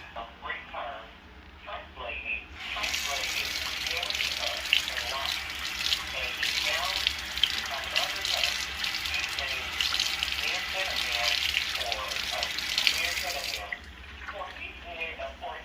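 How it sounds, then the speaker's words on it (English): Water runs steadily from a kitchen tap for about eleven seconds while a pot is rinsed in the sink, a bright continuous gush that starts and stops abruptly, with someone talking before and after. "Let me rinse this off."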